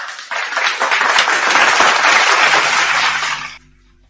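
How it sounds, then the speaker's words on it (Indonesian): Dense applause from a crowd at an Indonesian religious debate event, loud and sustained for about three seconds before cutting off abruptly into quiet. "Tepuk tangan."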